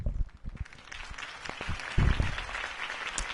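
Crowd applause at a political campaign speech for Harvey Dent in a scene from the Telltale Batman video game, a moderate, continuous patter of many clapping hands with brief louder swells, heard without speech.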